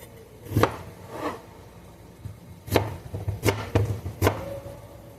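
A knife chopping potatoes on a cutting board, several sharp, close knocks spaced irregularly, a few in a quicker cluster near the end, with faint handling sounds between them and no talking.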